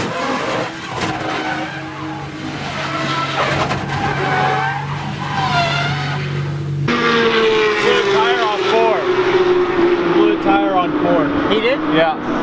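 Race car on the Daytona circuit during the Classic 24, snapping loose coming off the banking: a loud engine roar with high-pitched tire squeal and skidding, near and continuous, with voices talking over it.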